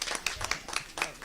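A small group clapping briefly, a handful of sharp, irregular claps close by, lasting only about a second.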